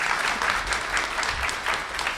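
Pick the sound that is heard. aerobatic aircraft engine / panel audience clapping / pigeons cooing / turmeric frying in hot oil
panel audience clapping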